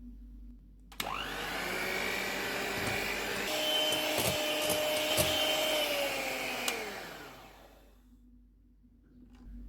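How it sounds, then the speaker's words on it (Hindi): An electric hand mixer whips cream with condensed milk for cherry ice cream, a steady motor whir that starts abruptly, holds for about seven seconds with slight pitch shifts and light clatter, then winds down and stops. "इसमें कंडेंस मिल्क डालेंगे, और इसको दोबारा व्हिप करेंगे।"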